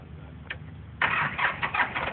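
Tractor engine running, a low steady rumble that surges louder and rougher about halfway through as it revs, with uneven bursts continuing to the end; no talking.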